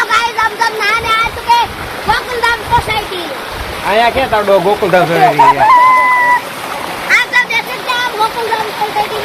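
Water running steadily in a farm irrigation channel, a continuous splashing flow close by, with people talking over it throughout and some bird-like chirps mixed in.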